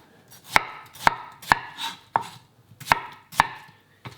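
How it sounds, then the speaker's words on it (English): Knife chopping watermelon into smaller pieces on a board, seven or eight sharp, close thuds at a steady, unhurried pace with quiet gaps between. "just going to cut it up into smaller segments"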